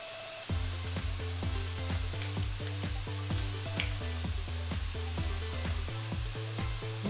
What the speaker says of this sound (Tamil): இஞ்சி பூண்டு போட்டு மிக்ஸ் பண்ணிக்கணும்.